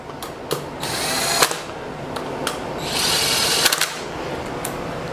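A power tool drives down motorcycle wheel bolts in a crisscross pattern, with two sustained whirring bursts, each followed by short clicks and knocks, heard close and fairly loud.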